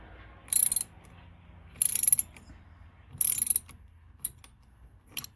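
A ratchet clicks in three short bursts as it is cranked while installing an Assault Industries steering wheel on a Polaris RZR Turbo XP4, with a couple of faint single clicks after.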